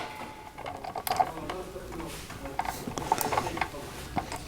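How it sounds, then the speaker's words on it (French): A ratchet with a 13 mm socket drives a screw on a circular saw, giving scattered clicking and small mechanical ticks at close range, short bursts with brief pauses between them. "remettre notre vis, et avec toujours notre cliquet et notre douille de 13"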